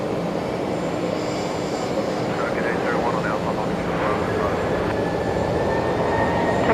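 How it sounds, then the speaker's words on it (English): A Qantas airliner departs Brisbane Airport bound for Melbourne with a steady, loud jet engine roar that holds throughout, a thin whine running over the broad rumble and a voice speaking beneath it. "There we go, Qantas 6:39 off to Melbourne."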